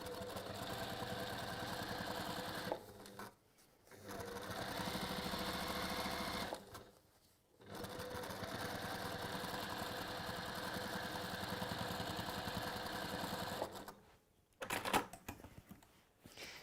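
A sewing machine top stitching around the lining of a fabric bag, running in long steady rapid bursts with a few short pauses between runs, close and clear, with no voices.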